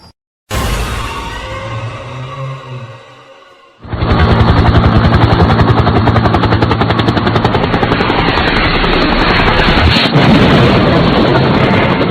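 Animated-story helicopter crash: a loud thudding rotor roar fades out, then a violent impact bursts into a sustained, heavy roaring rumble with a sharp crash near the end, all close and loud.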